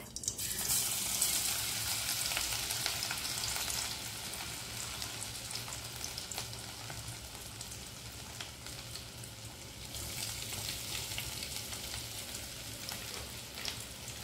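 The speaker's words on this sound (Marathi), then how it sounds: "आता त्या उरलेल्या तेलात आलं आणि लसूण भाजून घेऊयात।" Steady oil sizzle as ginger and garlic fry in a pan, a constant hiss with small crackles and occasional stirring, no voices.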